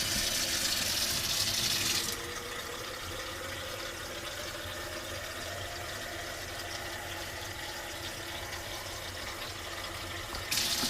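Cold water runs steadily from an off-grid tap after passing through the plumbing lines, a constant close hiss and rush that brightens briefly at the start and end, with no one speaking.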